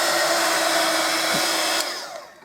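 A hair dryer blows steadily on paint on a canvas, a loud, even whooshing hum that runs alone and then trails off as it is switched off near the end.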